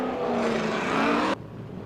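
A drift car's engine screaming at high revs during a competition run, loud and sustained, then cutting off abruptly to a quieter background.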